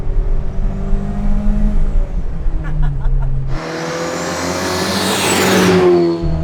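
A turbocharged 1974 BMW 2002 with a hot-rodded M3 engine driving in second gear, a loud steady engine drone that shifts into a rising, whooshing surge of revs midway.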